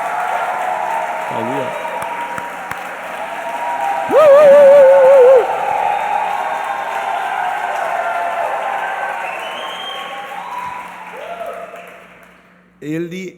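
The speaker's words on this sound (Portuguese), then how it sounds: "quero ceder uma linda salva de palmas para o Diogo, coordenador do evento" A church congregation gives a warm round of applause, clapping steadily throughout under a speaker's voice amplified over a PA, with brief tonal electronic blips.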